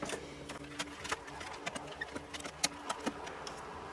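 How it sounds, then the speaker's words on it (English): A handheld screwdriver backs out the fan screws on a PC case during a Corsair H60 liquid cooler installation, making faint, irregular clicks and ticks up close over a quiet room. "I'm going to take my handy screwdriver here and start to unscrew these"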